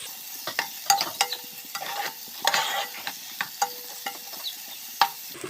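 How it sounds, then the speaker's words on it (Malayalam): Onion, green chili and garlic sautéing in oil, a soft sizzle under frequent scraping and stirring of a spoon against the pan, close and fairly quiet, no talking. "അപ്പം ഇതെല്ലാം കൂടെ നമുക്ക് എണ്ണയ്ക്കകത്തിട്ട് നന്നായിട്ട് വഴറ്റിയെടുക്കാം"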